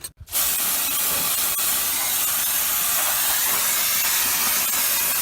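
Brake cleaner blasts in a steady, loud hiss onto the front brake parts of a 2006 Isuzu NQR truck, starting abruptly and running continuously up close with no talk.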